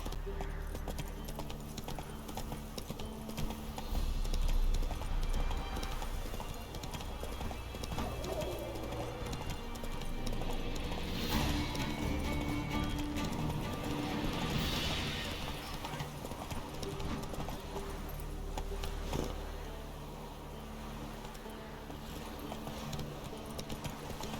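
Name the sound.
horse hooves clip-clopping, horse riding in The Witcher 3 video game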